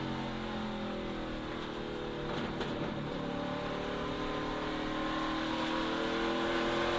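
Ty Dillon's race truck engine in a CRAFTSMAN Truck Series race at Richmond Raceway, a steady, sustained drone held on light, smooth throttle with other trucks' engines blending into a continuous roar.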